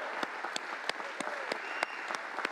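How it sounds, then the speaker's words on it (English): Church congregation clapping during a Sunday service, a modest group whose applause carries a few distinct loud, sharp nearby claps standing out above a softer background patter of hands for about two and a half seconds. "Let's give him a hand clap."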